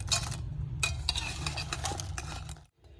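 Bread pieces stirred through sugar syrup in a pan, with a steady wet scraping and stirring sound over a low continuous bubbling sizzle, fairly close, with short pauses and no talking.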